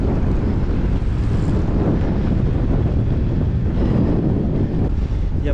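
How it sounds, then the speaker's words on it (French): Strong coastal wind roars steadily across the microphone while cycling along a dune road in Finistère, a dense, continuous buffeting with no voices. "Il y a pas mal de vent hein, sur la côte"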